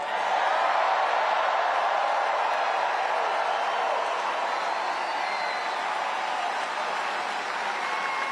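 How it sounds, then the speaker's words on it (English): A large crowd at a Donald Trump campaign rally in Charlotte, North Carolina, roars and claps without a break, a dense and steady wash of applause and cheering. "Like this crowd. Look at this crowd."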